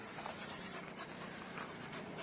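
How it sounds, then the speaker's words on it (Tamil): A dog pants in quick, steady breaths at close range, quiet but continuous across the moment, with no voices. "இந்த நாய் கூப்பிட்டோடனே வந்து அப்படியே எகிருது."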